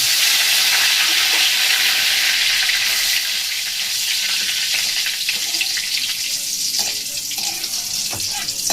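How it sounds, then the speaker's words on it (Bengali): Curry leaves frying in hot oil make a loud, continuous crackling sizzle that fills the clip. A few faint utensil taps sit under it. "এবার কয়েকটা কারিয়া পাতা আমি দিয়ে দেবো তেল"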